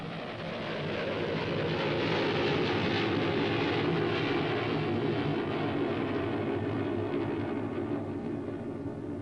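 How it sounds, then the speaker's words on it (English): Experimental rocket-assisted Heinkel 112 aircraft fitted with a Walter motor, a continuous loud roaring engine drone that swells slightly and holds steady throughout. "an experimental rocket-assisted Heinkel 112, originally meant to use liquid oxygen-based fuel, adopted Walter's motor instead"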